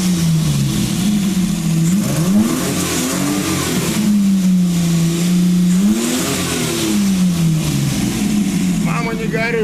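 A loud Mercedes Unimog 404 engine on two Solex carburetors, with a blown muffler, revs up and down in long swells, rough and throaty, with a voice talking over it.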